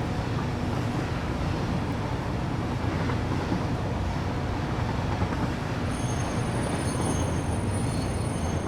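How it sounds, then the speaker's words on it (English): Train in the factory-building game Satisfactory running along its tracks, a continuous dense rumble of wheels and rail noise with a thin high squeal appearing near the end, steady and loud throughout with no voices. "In fact, that could be that train that's going over there now."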